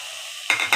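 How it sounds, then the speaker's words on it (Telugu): Blended paste of two large tomatoes hitting a hot pan where green chilli paste is frying, two sharp close sizzling bursts after a quiet start. "2 టమాటాలు మెత్తగా మిక్సీ పట్టి వేస్తున్నాను."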